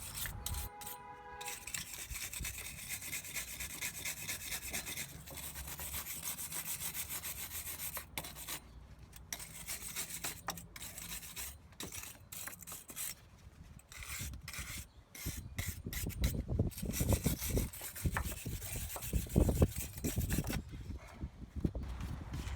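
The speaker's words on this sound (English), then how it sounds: "steel brush and just clean off some of that debris right here" Steel wire brush scrubbing debris off the wheel hub of a Dodge Neon during a rotor replacement, a continuous scratchy rasp that grows heavier and rougher toward the end.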